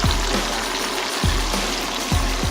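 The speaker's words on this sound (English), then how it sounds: "he added in the garlic and onions, frying that around in the oil" Garlic and onions sizzle in oil left from frying fish at a Dubai street food stall, a steady broad hiss broken by a few soft low thumps.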